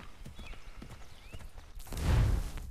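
A horse in the video game Assassin's Creed 3 trots closer, its soft hoof clops rising into a louder rushing approach near the end, with faint game ambience beneath.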